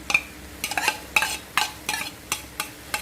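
A spatula scrapes and stirs beef with holy basil leaves and chilies in a hot pan, a series of sharp metallic scrapes in an irregular rhythm over a faint sizzle, close and clear.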